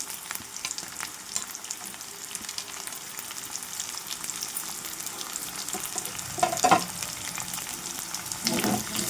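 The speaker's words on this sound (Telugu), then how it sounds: "ఈ ఉల్లిపాయ ముక్కలు, కాలీఫ్లవర్ ముక్కలు చక్కగా ఇలా ఫ్రై చేసుకోవాలి" Onion and cauliflower pieces frying in oil in a pan for a fresh coconut cauliflower fry, a constant close sizzle with occasional louder stirring scrapes near the end, no voices.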